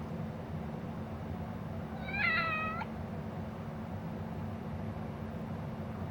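A single short meow from a cat in the video game Lost Judgment, heard over a steady low background hum with no speech.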